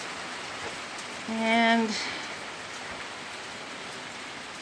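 Steady rain falls outdoors, a soft continuous wash of noise that fills the whole stretch, with a brief spoken word cutting in partway through.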